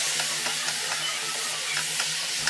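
Curry is stirred in a hot pan, a continuous sizzling hiss broken by several soft, rhythmic scrapes of the spoon, close and steady, with no voices.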